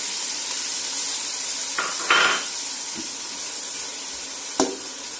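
Red tomatoes tossed into a hot pan for chicken patiala give a steady broad sizzle, with a couple of louder bursts as they land and a sharp utensil clink, no talking.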